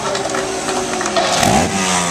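A trials motorcycle engine revs during a stand-up wheelie as the rider works the clutch, throttle and rear brake at a MotoGP event in Indianapolis, giving loud, rising and falling revs close by with no talk.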